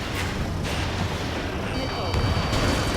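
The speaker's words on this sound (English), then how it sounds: "Missile incoming! Missile away." Missile launch and gunfire in the combat flight video game Ace Combat 7, a dense, continuous rumbling roar of weapons fire with sharper bursts layered over it and game radio chatter in the mix.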